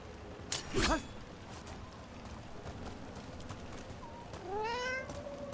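A cat meows once, clear and close, near the end in the video game Dragon Age Veilguard, over a steady ambient game backdrop with an earlier short burst of sound.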